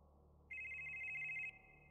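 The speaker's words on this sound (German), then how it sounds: "Telefon!" A single electronic telephone ring tone sounds in the horror video game Demonologist, a steady high trill lasting about a second with a fainter tail after it, alone over a quiet background.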